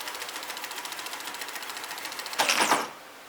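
A junkyard hi-fi cassette tape deck fast-forwards its tape with a fast, even whirring flutter, fairly quiet and close, ending in a brief louder clunk as the mechanism stops.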